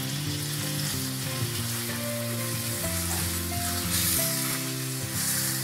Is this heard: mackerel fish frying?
yes